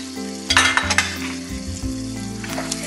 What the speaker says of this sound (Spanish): Hay que cogerlo y moverlo para que se vaya disolviendo. Y dorarlo un poco.